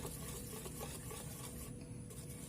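Eggless semolina cake batter being stirred, a faint continuous scraping and swishing with a soft rhythmic texture, close and quiet with no voices.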